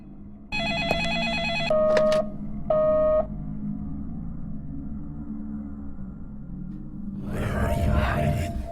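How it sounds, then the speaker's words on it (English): Telephone ringing inside a horror video game set in an old lumber mill, a few bursts of electronic trilling bells followed by a low droning hum and a burst of noise near the end. "perhaps we should pick up that phone and see who's calling"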